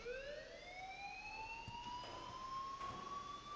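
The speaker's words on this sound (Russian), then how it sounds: "И, пожалуйста, вырубите сирену" A faint, distant alarm siren in the video game Life Is Strange wails in a slow, rising sweep, carrying steadily without any talking.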